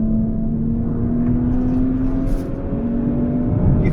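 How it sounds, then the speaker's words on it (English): Maserati Levante S SUV engine and exhaust in sport mode, a steady droning hum with a sustained tone under road and wind noise, heard from inside the cabin at moderate loudness without talk. "when you press on sport mode, the exhaust comes alive"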